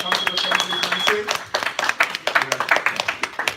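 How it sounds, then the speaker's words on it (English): Scattered applause from a seated audience at a speaking event, brisk uneven claps mixed with voices and a brief tone, fading into lighter isolated claps toward the end. "Give her a round of applause, Nancy."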